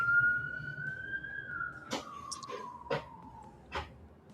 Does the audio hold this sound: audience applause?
no